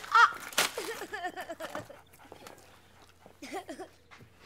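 A dog whimpers in a few short, high, wavering whines, fairly close and soft, with a sharp knock and faint rustling around them.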